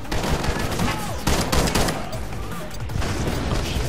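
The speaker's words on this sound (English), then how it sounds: "Whoa, explosions." Rapid bursts of gunfire and booming blasts crackle in a dense, loud barrage during a firefight in the video game The Club.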